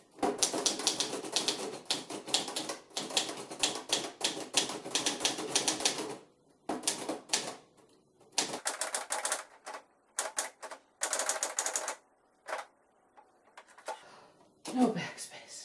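Underwood 319 typewriter being typed on in a short test, rapid clacking keystrokes in bursts with pauses and a carriage ding, close and clear, with a person talking between bursts.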